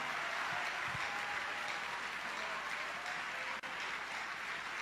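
A church congregation applauding to acclaim Jesus: steady, even clapping from a crowd held at moderate level throughout, with no voices standing out.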